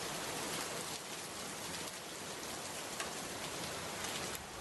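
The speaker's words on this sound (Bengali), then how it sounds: "দেখ কত জোরে বৃষ্টি হচ্ছে।" Heavy rain falls steadily and densely, a constant broadband hiss of drops striking surfaces with no break across the whole stretch. No voices or thunder are heard.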